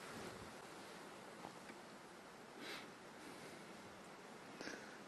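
Strong wind rushes steadily through open country at sunrise on a safari drive, a constant faint roar with slight gusty swells and no voices.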